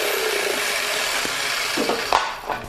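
A jigsaw cuts a rough disc out of wood, a continuous buzzing rasp that runs steadily up close, then breaks into a few uneven knocks and scrapes as the cut finishes.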